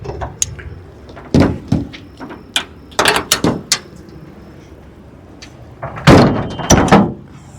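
A school bus door being operated during a wheelchair loading, heard as a series of close, loud clunks, slams and mechanical rattles in separate bursts with quiet gaps between them.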